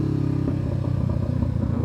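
A Honda CBR 500 motorcycle out on a ride along quieter back roads, its engine droning steadily with a low throbbing rumble and faint rattles, heard close and alone.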